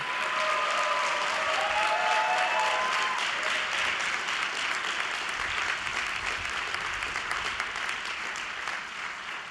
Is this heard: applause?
yes